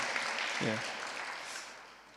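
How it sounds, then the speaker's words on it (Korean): A church congregation at a Sunday service gives a welcoming round of applause, a soft, even patter of clapping at moderate distance, with a brief voice rising over it early on. "큰 박수로 한번 환영해 주시겠습니까?"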